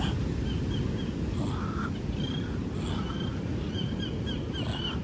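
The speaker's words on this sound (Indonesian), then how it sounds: "bagaimana nyanyian burung pagi ini di tengah pulau Indrapuro" Several short bird chirps and calls of morning birdsong ring out intermittently over a steady low rumble of wind and waves at Pasir Ganting coral beach, Indrapuro, Pesisir Selatan, Indonesia, the birds sounding somewhat distant.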